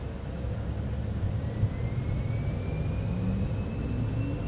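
Citation X business jet in a flight simulator, engines spooling up with a steady roaring whir and a thin whine gliding upward in pitch, loud and continuous with no talk.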